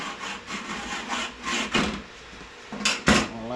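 Sharp scribe scratching repeatedly across cut sheet metal, a series of short, gritty strokes of uneven length, close up and alone.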